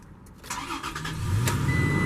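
A 2019 Toyota Tacoma TRD Off-Road with a six-speed manual cranks briefly with a few quick starter pulses, then catches and settles into a steady, close idle.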